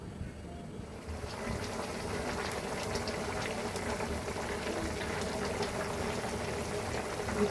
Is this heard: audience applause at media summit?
no